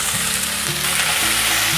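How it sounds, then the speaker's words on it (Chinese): Cabbage, carrot and black wood ear fungus stir-fry in a hot pan, a dense, loud sizzle right up close with a low hum running beneath, continuous and unbroken, no speech. "快速的拌炒。"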